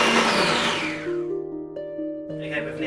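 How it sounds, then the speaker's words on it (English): A food processor pulses roughly cut onions, a loud whirring motor that spins down into a fading hum, with a voice speaking nearby. "just throwing it into a food processor"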